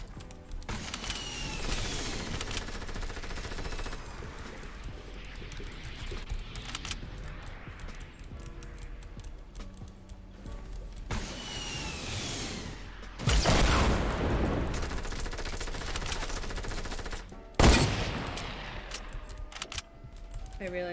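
Weapon fire in Fortnite Battle Royale, bursts of shots and destruction crashing through built structures, with two loud blasts standing out near the end over a dense, busy game mix.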